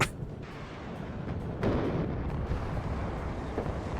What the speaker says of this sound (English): I'm firing my last of my cluster, just this tank.